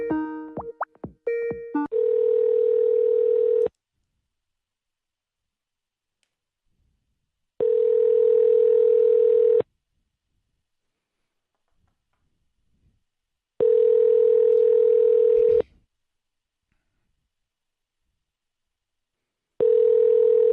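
After a quick run of dialing beeps, a telephone line on an outbound sales call gives a steady ringback tone in evenly spaced two-second pulses separated by long silences, clear and alone.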